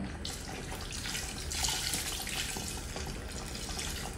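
Water poured into a pot of rice porridge with tofu and pork, a steady close splashing and trickling that runs evenly throughout with a brief swell midway.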